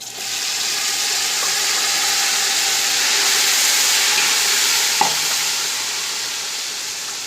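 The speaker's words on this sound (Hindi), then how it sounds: "अब इसमें टमाटर ऐड करते हैं" Tomatoes dropped into garlic, ginger and whole spices already frying for mutton yakhni pulao, giving a loud, steady broadband sizzle that fills the whole stretch, with one brief clunk of a utensil near the end.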